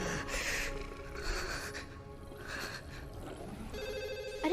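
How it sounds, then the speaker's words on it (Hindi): A cartoon telephone rings in repeated bursts with short pauses between them, sounding fairly loud and close, with faint rustling underneath. "अरे फोन तो उठा।"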